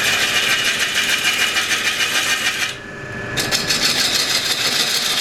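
A wood lathe spins a 4,000-year-old piece of underground kauri while a Rick Taylor gouge cuts it, making a loud, steady hissing scrape that drops away briefly before resuming.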